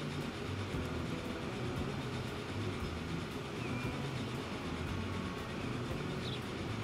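A train rolls steadily in the video game Transport Fever 2, a faint, continuous low rumble and clatter from a distance with no talk.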